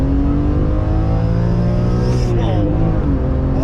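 A BMW E46 M3's naturally aspirated engine, fitted with a twin back box exhaust, revs hard and loud up close, its pitch climbing steadily before dropping off sharply near the end.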